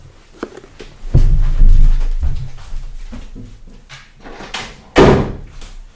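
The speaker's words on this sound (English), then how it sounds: "just close the door" A door closes with a solid thud in a classroom, and a second sharp bang follows a few seconds later, with softer shuffling and handling noises between them.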